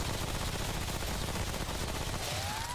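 A Tommy gun submachine gun in a video game fires a dense, continuous burst of rapid shots, loud and close, unbroken the whole time with a faint rising whine near the end.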